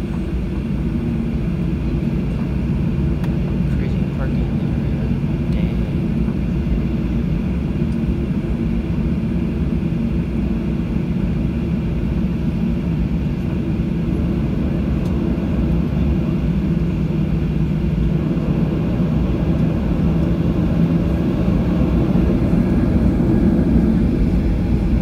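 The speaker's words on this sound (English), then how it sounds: "Flight attention, I'll be seated for takeoff." A passenger airplane taxis for departure from Ketchikan, Alaska, heard from inside the cabin on the right side as a steady loud low engine drone and rumble throughout, with no talking.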